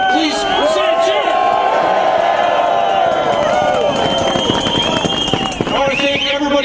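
A union rally crowd outdoors cheers and whoops loudly, with scattered shouts and whistles rising over a dense, sustained roar of voices.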